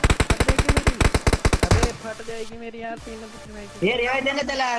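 Rapid automatic gunfire in a battle royale video game, a fast string of sharp, loud shots for about two seconds, followed by quieter in-game sounds and music-like tones as a voice talks over it.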